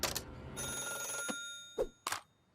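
A cartoon hotline phone rings in bright, tonal electronic bursts: one long ring followed by several short, sharp chirps.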